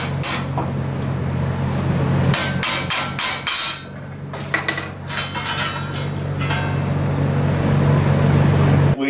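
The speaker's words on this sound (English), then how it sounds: "We got our plastic mallet" Plastic mallet striking metal parts in a workshop before welding, a run of sharp, loud taps in quick clusters with short pauses, over a steady low machine hum.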